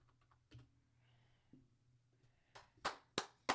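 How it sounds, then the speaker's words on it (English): Typing on a computer keyboard, sparse close taps at first, then a burst of several louder sharp key strikes near the end. "I'm literally typing in DLE."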